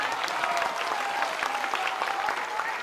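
Steady applause from a large crowd at a political rally in Banka, Bihar, dense continuous clapping throughout with no pauses.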